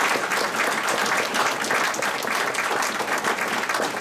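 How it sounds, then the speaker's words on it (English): Sustained applause from an audience at a building ceremony, a dense, steady patter of many hands clapping at once that holds at an even loudness for the full four seconds. "we should give them a round of applause"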